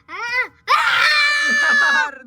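Inside a cramped tunnel slide, a person lets out a short high shriek, then after a brief gap a long, loud, wavering scream that rings close in the enclosed space.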